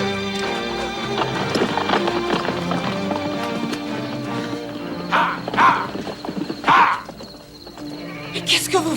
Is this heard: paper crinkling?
no